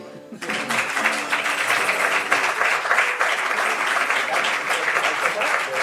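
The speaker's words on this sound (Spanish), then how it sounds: "Muchísimas gracias por su aplauso." An audience at an Alicante journalism award ceremony breaks into applause, a sudden onset that swells into a dense, sustained wash of clapping lasting several seconds.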